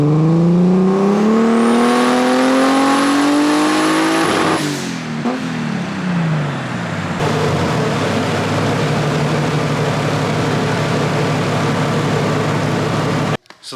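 A built, boosted BMW E36 screams up through its revs on a dyno, pitch climbing steadily to a peak, then drops as the engine winds down and rumbles loudly at high load.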